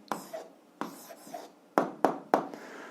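Pen strokes on paper while working through a 7th-grade algebra exercise, a handful of quick scratchy bursts in an uneven rhythm, close and fairly quiet, with no voice over them.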